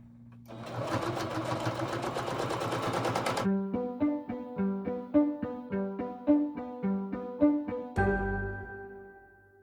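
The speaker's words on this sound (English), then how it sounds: "I'm just going to sew 1/4 inch seam or so, put my presser foot over to the edge, and let's sew" A sewing machine runs a quarter-inch seam along the edge of bandana fabric for an envelope pillow, first a dense continuous whir, then slower evenly spaced stitch thumps, ending in a low thud.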